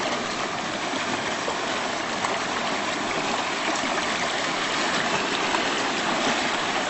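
A swollen creek runs over saturated ground near a footbridge, spilling into new channels; a steady, close, broadband rush of flowing water continues without pause and no voices are heard.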